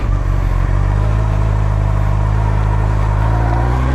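A Honda CBR954RR FireBlade motorcycle runs a lap, its engine holding a loud, steady drone up close with a constant low rumble and wind roar, no voices.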